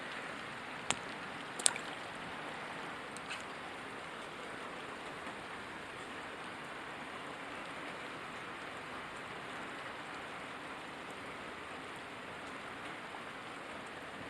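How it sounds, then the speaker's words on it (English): Rain falls steadily during an outdoor fishing session, a soft continuous patter with a few closer drops ticking sharply near the start. "It might have been rain hitting the tip of my rod."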